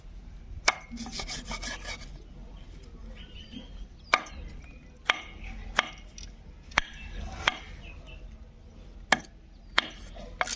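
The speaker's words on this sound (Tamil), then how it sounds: "இந்த மாதிரி விரல் நகத்தெல்லாம் வெட்டிட்டு இது 2 துண்டாக போட்டுக்கணும்." Chicken legs being chopped into two pieces on a board for a pepper fry, sharp isolated knife strikes landing every second or so with quieter rubbing and handling between, close and moderately loud.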